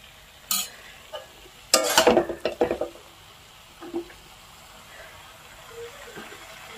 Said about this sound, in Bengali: এডোখৰ জিৰা আদা তেজপাতা ধনিয়া ভাজি লোৱা